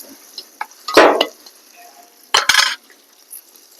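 Sliced onions, two of them, drop into hot oil in a pan for a dry fish and cucumber curry, giving bursts of sizzling and stirring scrapes with quieter frying hiss between them.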